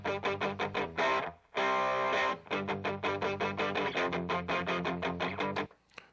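A Stratocaster electric guitar played with crunchy distortion, rhythmic chopped chords in a steady pattern, loud and close, with a brief sustained ringing chord and a short gap before the chugging resumes.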